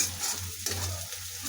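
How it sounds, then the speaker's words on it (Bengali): Chili, onion and garlic frying in hot oil, a close continuous sizzle with a low steady hum beneath and a brief stirring knock partway through. "দেখ তেলের মধ্যে মরিচ পেঁয়াজ রসুন দিয়ে দিচ্ছি, ভাজতেছি।"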